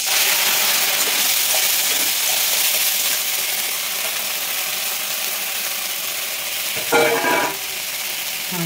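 Leafy greens dropped into a hot pan and frying, a loud dense continuous sizzle with a brief clatter near the end as the pan or ladle is moved.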